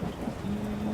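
Rain and thunderstorm in a cartoon, a steady patter of rain under a low rumble, with a faint sustained tone running through the second half.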